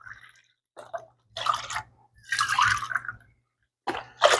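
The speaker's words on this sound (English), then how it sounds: "I've got about 3 cups of water, and we're going to probably add in about 5 or so cups of chicken broth" Chicken broth is poured into a small pot holding about three cups of water, splashing in several separate liquid bursts broken by short silences.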